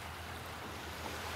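Evening sea waves at Racha Yai island give a soft, continuous wash of surf with light wind noise, faint and without voices.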